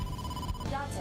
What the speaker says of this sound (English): Date, incoming call from the boss.